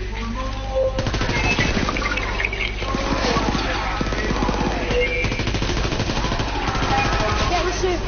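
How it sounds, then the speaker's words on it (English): Rapid minigun fire in a video game, a dense continuous stream of shots running through the whole stretch, with voices talking over it. "I'm using my minigun."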